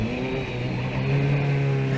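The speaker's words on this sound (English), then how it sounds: "See, it's not slowing down as well, and the engine stops." A Formula 1600 race car engine drones steadily and loudly nearby, holding a low, even pitch throughout with no voices.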